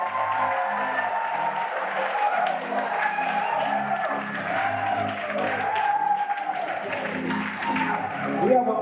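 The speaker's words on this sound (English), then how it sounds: "Let's give them a big round of applause." Applause ripples through a wedding reception crowd, a moderate, sustained clapping that carries on steadily under a faint background hum.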